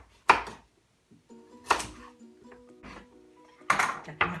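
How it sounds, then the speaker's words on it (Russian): A knife chops carrots on a cutting board for a duck breast dish cooked without oil, salt or water. Four sharp, separate chops land close by, with a low hum between them. "Так, морковку нарезали."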